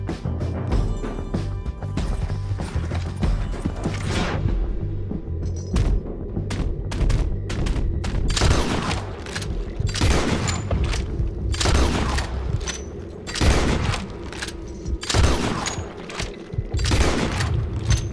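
Gunshots in the Western video game Red Dead Redemption 2 during a bounty-hunting shootout, a string of loud, sharp, irregularly spaced blasts with crashing impacts amid ongoing game noise.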